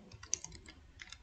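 Typing on a computer keyboard while writing Flutter code, a quick run of light, soft key clicks in an irregular rhythm, close and fairly quiet with no talk.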